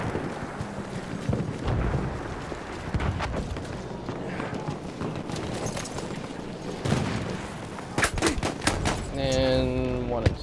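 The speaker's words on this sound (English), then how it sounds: "Sniping with that infantry rifle" Infantry rifle gunfire in a multiplayer shooter game, repeated sharp shots and bursts at varying distance over a rumbling battlefield bed, ending with a tonal in-game sound.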